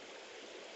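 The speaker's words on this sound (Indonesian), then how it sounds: "Spot sungai yang keras." Fast-flowing river rapids rush in a steady, dense roar of churning water, close and continuous with no pauses.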